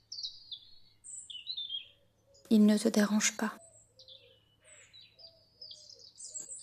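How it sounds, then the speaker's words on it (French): Faint birds chirp and sing at a distance, scattered high calls through a quiet forest-like ambience, with a soft spoken voice briefly in the middle. "comme le chant lointain des oiseaux dans une forêt"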